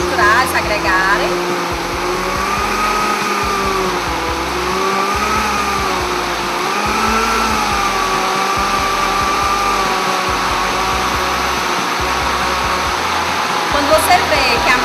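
An electric mixer whirs steadily while beating soft cake batter, its motor drone shifting slightly in pitch as it works, loud and close, with a voice speaking briefly near the end.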